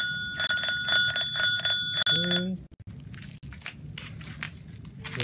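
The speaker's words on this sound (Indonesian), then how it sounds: "ini ada bel-belnya" A metal bell on a Pacific Hotshot Batman 3.0 children's 18-inch bicycle rings several times in quick bursts, loud and close, then a brief squeak followed by faint handling clicks.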